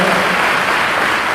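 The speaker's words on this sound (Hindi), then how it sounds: "अमृता फंडवित जी के लिए एक बार जोरदार तालियां हो जाए" Loud, dense audience applause at a Yoga Day foundation event, a steady wash of many hands clapping together with no gaps and no talking over it.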